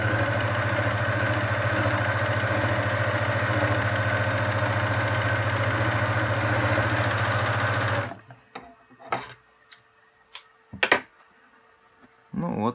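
A Jaguar HQ-082DW overlock sews a seam on knit fabric at stitch length 3 with a loud, steady, rapid whir for about eight seconds, then stops abruptly, leaving quiet clicks and handling noises.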